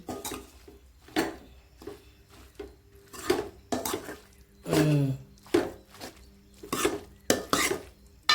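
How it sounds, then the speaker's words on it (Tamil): A metal spoon scrapes and clinks against a pan in a rhythmic series of stirring strokes as coriander leaves are mixed into a Kongu-style blood and intestine fry, with short pauses between strokes and a brief sizzle midway. "கொத்தமல்லி தழை போட்டு கிளறியாச்சு"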